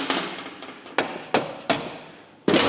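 Several sharp hammer blows ring out on a Yamaha motorcycle's wheel axle, spaced unevenly with a pause before a final louder strike, each metallic hit close and decaying quickly.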